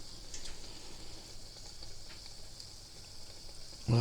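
Pieces of Tunisian yoyo dough fry in hot oil, giving a steady, even sizzle throughout, with a louder bubbling burst near the end as more dough goes into the oil.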